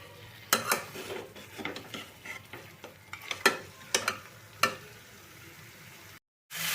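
Chicken pieces sauté on a high flame as a spoon stirs and knocks against the pot in irregular clatters over a low sizzle, ending in a brief cut of silence.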